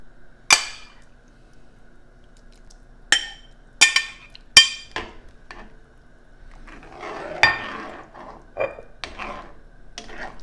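Cod and shrimp go into a stew pot with leeks, giving a few sharp clinks and knocks of utensils against the pot, spaced out among soft splashing and rustling, close and moderately loud, with no talking.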